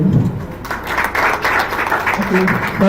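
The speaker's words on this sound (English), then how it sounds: "Please, round of applause to her again." Audience applause at a nursing conference, a steady wash of clapping filling the hall for nearly three seconds, with a voice talking faintly underneath.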